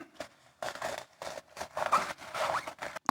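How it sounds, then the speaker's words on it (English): Paper towel rubbed over a silicone mold to spread Murphy's soap as mold release, close and quiet, with short bursts of scratchy, scraping friction in an uneven back-and-forth rhythm. "Get a paper towel here and rub some on."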